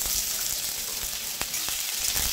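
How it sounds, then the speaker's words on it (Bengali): Cut, washed potatoes sizzle steadily in hot oil in a pan, a constant bright crackle with a few sharper pops and clicks, close and alone. "এবার ওই তেলের মধ্যে দিয়ে দিচ্ছি কেটে ধুয়ে রাখা আলু।"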